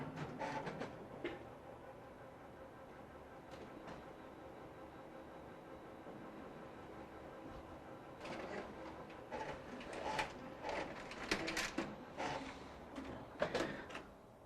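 A Sharp MX-series color copier (MX-2310/2610/3110/3610) prints a test pattern after reading a patch: steady low mechanical whir, then clacking feed and paper-handling clunks that grow busier and louder toward the end, with no talking.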